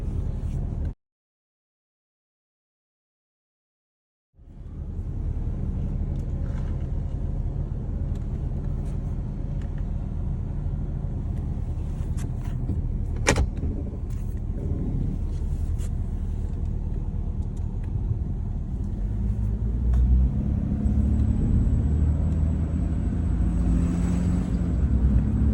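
A Jeep Grand Cherokee's engine runs steadily on a test drive after a transfer case chain replacement, a continuous low rumble with road noise, briefly cut out near the start and then rising slightly toward the end, with no talking.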